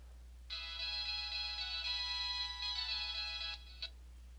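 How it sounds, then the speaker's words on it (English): A home telephone ringtone trills steadily for about three seconds, then gives a brief extra chirp, heard from a short distance over a constant low electrical hum with no voices. "sorry, the phone was ringing"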